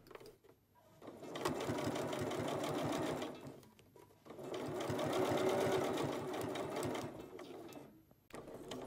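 A sewing machine bastes with a standard presser foot, running in two steady bursts of rapid needle clatter separated by a short pause, close and clear.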